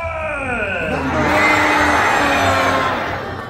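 A theater audience screams a long, sustained "Ah!" together with hands in the air at a comedy show attraction, the crowd roar swelling loudly and then fading after a few seconds.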